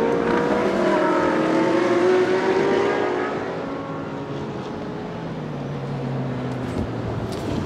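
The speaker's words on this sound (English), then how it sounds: "So just looking at Nissan 23, is being manhandled around Les Combes, slipping and sliding." A Nissan GT race car in a 24-hour endurance race at Spa, its engine roaring loudly as it passes and shifts, then fading into a lower distant drone as the car moves away.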